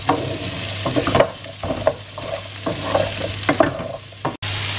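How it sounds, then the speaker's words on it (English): Celery and garlic sautéing in a pot for a slow-cooked beef stew, with a steady low sizzle broken by repeated scraping stir strokes and occasional clinks of the spoon, heard close with no talking. "give it a good stir and cook until it is soft"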